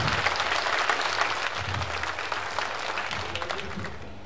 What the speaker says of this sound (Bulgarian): По вашите аплодисменти ще разберем дали ви е харесало.